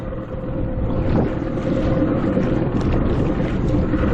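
A 1980s jet-powered surfboard engine idles with a steady, rough drone, wind buffeting faintly over it, no voices.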